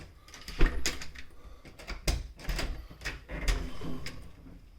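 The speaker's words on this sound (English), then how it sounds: "take away the creaking noise from my door" A household door swinging open after its hinges were oiled, giving a series of knocks and thuds with only faint residual creaking, fairly close and moderately quiet.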